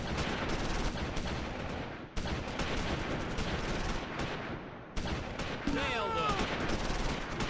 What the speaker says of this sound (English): Just get those rifles firing mostly.